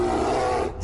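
A single sustained, rasping animal roar from bears in a video game, loud and close, holding steady for under a second before cutting off.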